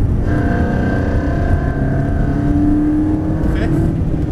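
A Ferrari 360 accelerates at full power in fourth gear on a track, its loud, sustained engine note holding a steady, strained tone close by.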